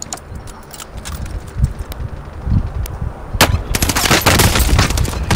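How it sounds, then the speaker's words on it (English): Rapid gunfire in a first-person shooter game, with scattered shots early that build into loud, dense automatic bursts toward the end, close and without speech. "You getting shot at?"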